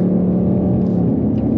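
A 2024 Ford Mustang GT Premium with a 5.0L V8 and 10-speed automatic accelerates under throttle, a loud, close, steady engine drone and rumble heard from inside the car.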